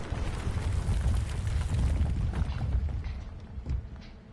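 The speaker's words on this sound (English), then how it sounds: "He may have just caused a cave-in." A deep, sustained rumble from a cave-in in the video game Book of Unwritten Tales, a dense roar of crumbling rock that slowly fades over about four seconds.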